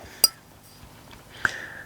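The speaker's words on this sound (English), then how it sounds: "Let's get some into the glass." Greene King Old Golden Hen beer poured from a bottle into a glass gives two clear glassy clinks, one early and one later, followed by a faint ringing and a soft hiss of liquid.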